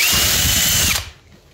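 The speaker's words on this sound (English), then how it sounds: "I'm going to go ahead and drill a hole." A power drill runs at high speed boring a hole in an aircraft fuselage during construction, a loud steady whine close up that cuts off abruptly about a second in.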